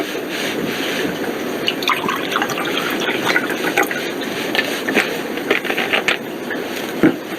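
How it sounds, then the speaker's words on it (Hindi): Water poured into a glass during a demonstration: a continuous trickling, splashing stream with faint drips and small clinks, moderately loud and steady for several seconds, with no talk over it. "ये हमने पानी डाला है"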